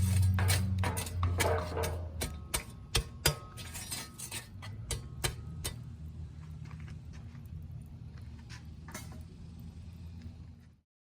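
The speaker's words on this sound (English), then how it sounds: "go ahead and spread out these coals, get this grill nice and hot" Charcoal coals are raked and spread across a cowboy grill over a wood-fired pit, giving faint metallic scrapes and clinks that come quickly at first and then thin out over a low, steady hum.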